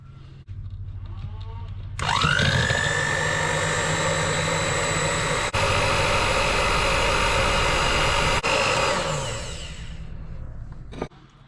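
An electric hand mixer whisks eggs, sugar and vanilla extract into a fluffy mixture, starting abruptly and holding a loud, steady high-pitched whir that cuts briefly twice before winding down, with no talking.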